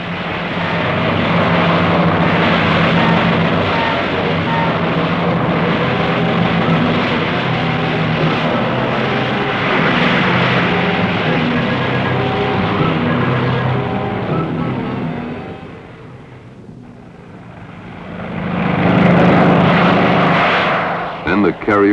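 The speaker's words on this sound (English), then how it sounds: "Their target was hundreds of miles away when these B-25s took off" B-25 bombers take off from the aircraft carrier Hornet, a loud roaring propeller-engine drone that dips for a moment and then swells again as another plane goes, with a voice narrating over it.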